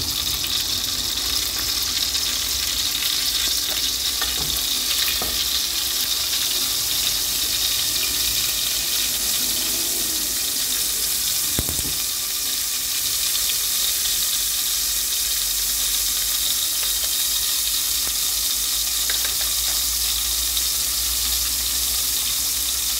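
Butter sizzling in a cooking pot while making peanut rice, a continuous hissing fry that stays loud and even with no talk over it.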